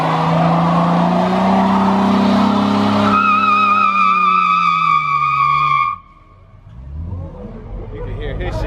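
Car tires squeal and skid at a Minneapolis street car meet, a loud sustained screech with harsh engine revving that cuts off abruptly near the end, leaving quieter crowd noise and rumble.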